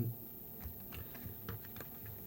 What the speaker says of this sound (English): just give the cards a quick shuffle here.